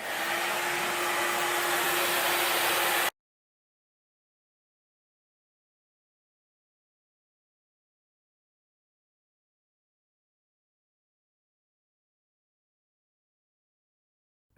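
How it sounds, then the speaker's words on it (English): A hair dryer roughly drying wet hair, a loud steady blowing whoosh close by that runs for about three seconds and then cuts off into silence. "This is, like I said, just a rough dry."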